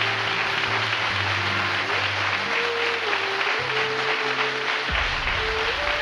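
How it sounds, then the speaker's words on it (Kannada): Sustained loud applause from a church congregation during Sunday worship, many hands clapping in a thick, unbroken roar over held organ-like notes, steady throughout. "ಗಟ್ಟಿಯಾಗಿ ಒಂದ್ಸರಿ ಚಪ್ಪಾಳೆ ತಟ್ರಿ"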